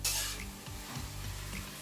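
Potatoes and green peas fry in a pan with a steady soft sizzle, while a spoon stirs and scrapes against the metal.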